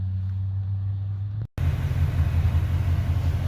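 A T-top Foxbody car's engine idles with a low steady rumble after its first start in years, briefly cutting out before returning louder and rougher.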